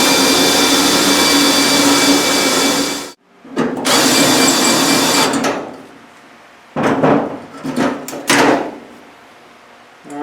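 Power tool drilling out spot welds on a Triumph Spitfire bonnet in a workshop, a loud steady whine running for several seconds, then stopping and restarting in shorter bursts with quiet gaps.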